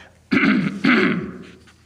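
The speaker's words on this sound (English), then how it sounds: "So sorry, I'm coughing away on camera here." Two harsh, throaty coughs in quick succession, close and loud, with a short gap between them and no talking.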